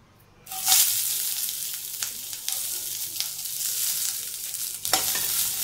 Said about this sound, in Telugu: ఇప్పుడు 1 స్పూన్ ఆయిల్ వేసుకుని పచ్చిమిర్చి వేసుకుందాం